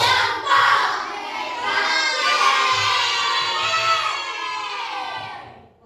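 Schoolchildren in a classroom lesson shout a 'tepuk berani' clapping chant together, a loud sustained group cry of young voices lasting several seconds, with a few faint claps underneath before it trails off.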